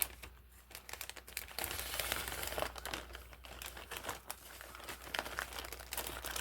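A plastic shipping package is cut open, giving close, steady crinkling and rustling with scattered sharper crackles throughout.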